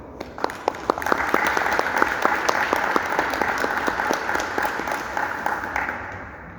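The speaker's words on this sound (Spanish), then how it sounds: "Recibámoslo por favor con un fuerte aplauso" An audience applauding, with a few sharp claps at first swelling into steady clapping that fades toward the end.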